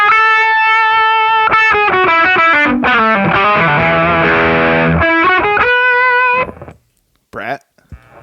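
A Stratocaster played through a ProCo Roadkill distortion pedal, volume and distortion near three o'clock, rings out loud, sustained distorted chords and riffs, then cuts to near silence with a brief final burst.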